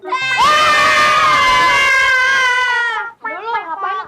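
Children shout together in a long, loud, high-pitched group yell lasting about three seconds, cut off abruptly, then followed by a few shorter excited calls and voices.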